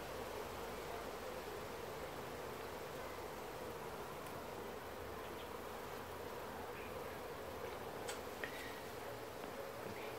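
Honey bees crowd an aquarium observation hive, a dense, steady insect hum running unbroken and fairly close throughout, with no voices over it.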